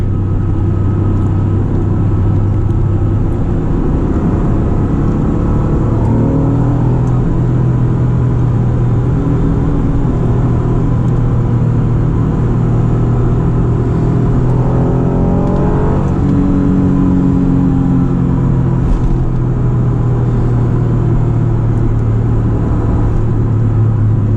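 Loud Acura NSX sports car engine droning from inside the car, with rising and falling revs as it accelerates and eases off, continuous throughout.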